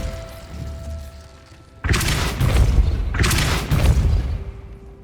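Depulso force spell cast in Hogwarts Legacy, two heavy booming blasts roughly a second apart, loud and close with a thudding low-end punch and no talking.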